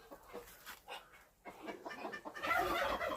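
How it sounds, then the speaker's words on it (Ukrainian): A turkey hen clucks and murmurs in a shed, with soft repeated calls that grow busier and louder toward the end, heard close up with no talking. "Так, Індичка он лізе, бачите, вже сьогодні сама лізе."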